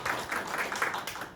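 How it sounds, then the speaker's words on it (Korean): Audience applause at a Korean political debate forum, a steady wash of clapping from a seated crowd, moderately loud and continuous for a moment with no talk over it. "멀리서 오셨는데 우리 더 힘찬 박수."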